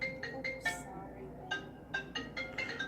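A mobile phone rings nearby with a repeating electronic melody of bright short tones and gaps, moderately loud in a quiet room.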